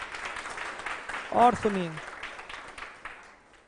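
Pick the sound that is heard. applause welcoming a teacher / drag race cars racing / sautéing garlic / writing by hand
applause welcoming a teacher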